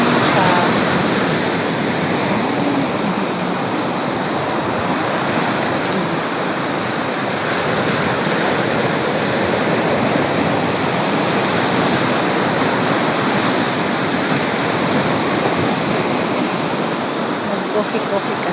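Sea waves crash and wash along the shore at Santa Catalina, a continuous loud roar of surf filling the whole stretch without pause or clear voices.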